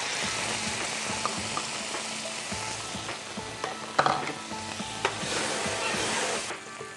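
Tomato paste fries with garlic and cumin in a pan, giving a soft, continuous sizzle. A spoon scrapes and clinks against the pan now and then, with a few sharper knocks.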